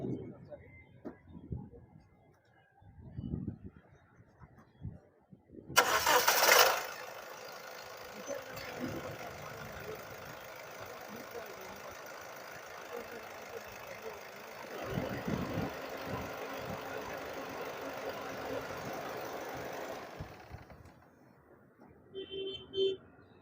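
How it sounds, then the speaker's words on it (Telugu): A 2015 Honda City VX sedan's engine cranks and catches with a sudden loud start, then settles into a steady idle hum for about fifteen seconds before shutting off, with a person talking nearby before and after. "సరే ఇంజన్ కూడా స్టార్ట్ చేద్దామండి"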